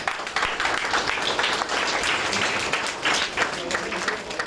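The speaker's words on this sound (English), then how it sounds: "His kind gesture has won a round of applause." A round of applause at an indoor gathering, steady crowd clapping that stays even and moderately loud throughout, with no break in the sound.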